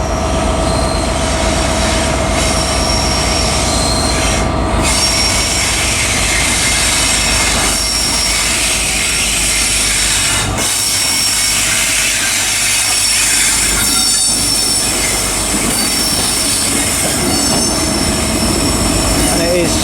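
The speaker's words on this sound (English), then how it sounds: "arriving in now is going to be the final train of this video. It is a terminating LNER service from London King's Cross." A terminating LNER service from London King's Cross arrives at Inverness station, a loud, close rumble of rolling stock with high squealing wheels and occasional clicks running throughout.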